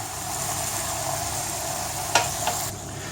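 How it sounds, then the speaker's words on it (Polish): Rabbit pieces sizzle steadily in a pan with onion just after wine is poured in, a constant close frying hiss with two brief sharp clicks of stirring near the end. "dolejemy 200 ml wina i chwilkę podsmażymy tak, żeby nam ten alkohol odparował"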